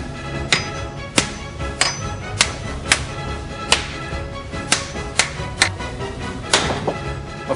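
Roll caps set off one at a time by hammer blows make a series of about a dozen sharp, loud cracks at uneven intervals, each standing alone with brief quiet between.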